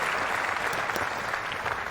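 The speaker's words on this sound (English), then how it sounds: "applause from his opponent" A tennis crowd and the opponent applaud a winning shot at a Sydney event, a dense, even wash of clapping held at a steady level throughout.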